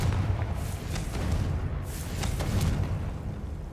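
Spell blasts from the Confringo fire spell in the Hogwarts Legacy video game, a sustained rumbling barrage of booming bursts at moderate loudness.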